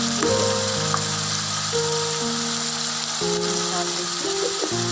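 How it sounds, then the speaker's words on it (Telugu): Salted onions frying in a pan, a steady close sizzle with faint stirring and shifting tones throughout. "ఉల్లిపాయలు వేసిన తర్వాత ఒక 2 నిమిషాలు వేగనివ్వండి."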